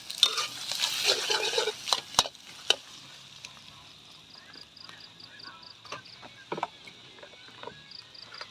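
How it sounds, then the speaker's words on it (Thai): Pork fried rice is stir-fried in a pan, with faint scattered scrapes, clinks and taps of a utensil against the metal over a quiet background hiss. "กำลังผัดนะครับทุกคน"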